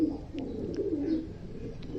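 Young pigeons coo in a low, steady, murmuring drone indoors, close by and continuous throughout with faint chirps above it.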